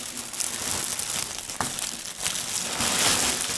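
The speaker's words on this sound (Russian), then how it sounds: "Пересыпаем субстрат в прилагаемый пакет." Dry mushroom substrate for growing oyster mushrooms is poured into a plastic bag, giving a steady, close crinkling and rustling with soft grainy shifting throughout.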